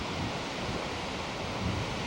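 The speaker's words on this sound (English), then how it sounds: "I'm getting lots of rain in my lens here." Wind-driven rain hits a camera lens near an Alaskan glacier, making a steady, loud, broadband rush of gusting wind noise with no voices.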